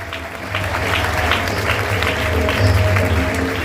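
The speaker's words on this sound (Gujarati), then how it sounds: "આપણે બધા તાળીઓનો નાદથી બાળકોને વધાવી લઈશું" An audience applauds to welcome a children's procession at a BAPS Swaminarayan religious gathering in Bhuj, steady sustained clapping from many hands with a low hum underneath.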